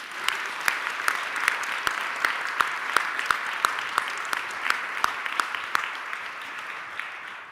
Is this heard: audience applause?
yes